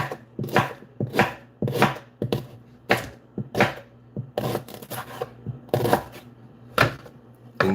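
Lime, lemon and ginger root being chopped with a knife on a board, a quick run of crisp close thuds in short bursts with brief pauses between.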